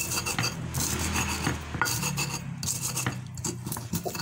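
Chili and peanuts with palm sugar, sugar and salt are ground for sambal in a mortar, a close, quiet series of gritty scraping and rubbing strokes with occasional knocks.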